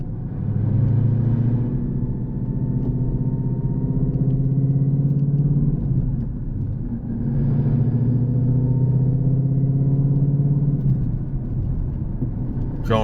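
A 2013 Ford Mustang GT pulls hard through the gears, its deep engine note rising in long sweeps with brief dips at each shift, loud and steady from inside the car.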